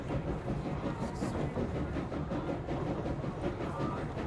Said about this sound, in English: Let's have a look at this train.